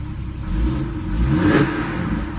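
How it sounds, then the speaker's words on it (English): A Mercedes-Benz E-Class (W213) engine idles nearby, then revs up in a brief rising surge before dropping back to a steady rumble. "I'm going to rev her a bit."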